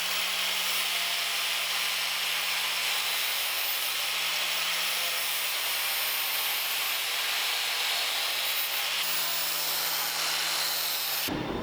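A weld on a front bumper is hand sanded with gentle back-and-forth strokes, giving a steady, close, gritty hiss over a faint constant hum that runs unbroken for nearly twelve seconds.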